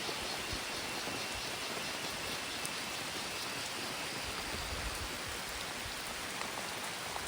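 Steady, unbroken rain pours down on an arecanut plantation after more than an hour of continuous downpour, a dense wash of drops on leaves and surfaces close around.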